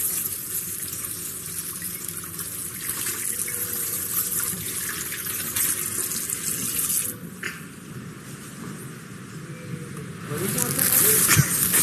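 A plate and cup are washed under a running tap, a steady gush of water splashing in a sink throughout, with voices talking over it and the flow swelling louder near the end.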